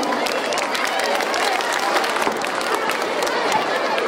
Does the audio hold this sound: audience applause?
yes